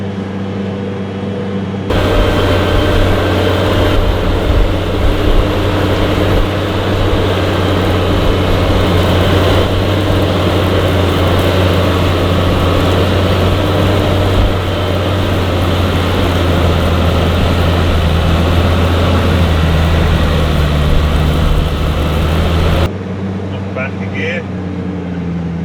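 A JCB Fastrac tractor with a Cummins engine labours pulling a flatlift, a loud, steady, close diesel drone holding for about twenty seconds before dropping away, with talk over it.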